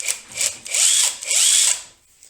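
A cordless Autojare impact wrench runs in three quick bursts, a high, whiny, drill-like whir that rises and falls with each pull of the trigger, close and loud, then trails into near silence.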